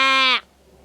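A performer in Dang, Nepal, imitates a sheep's bleat with a single loud, quavering cry held for a moment before it cuts off into quiet.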